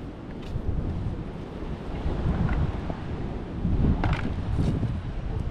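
Steady wind buffets the microphone in a continuous low roar, with faint water or surf-like rushing underneath and no talking.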